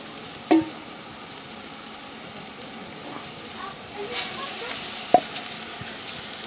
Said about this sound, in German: wir haben schon mal Olivenöl heiß gemacht in der Pfanne und sind gerade dabei, die Zwiebeln anzubraten